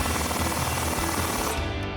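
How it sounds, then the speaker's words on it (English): A continuous rapid mechanical chatter as an 18mm socket tightens the upper control arm ball joint nut on a 2011-2023 Dodge Challenger during a coil-over install, close and steady for about two seconds with no talk. "we'll grab our 18mm socket and tighten it down"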